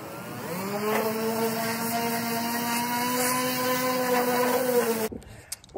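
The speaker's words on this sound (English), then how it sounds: "Orbital sander is too slow." An orbital sander works a car grill with a steady, close, droning whine that holds an even pitch for about five seconds before cutting off abruptly.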